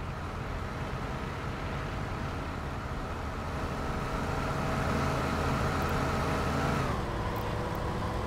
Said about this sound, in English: It's this truck.